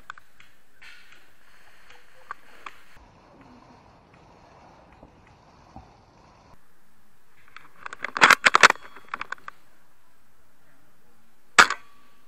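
Airsoft gunfire during a game in a village setting: after a quiet stretch of faint rustling, a quick cluster of sharp snapping shots, then a single crack a few seconds later.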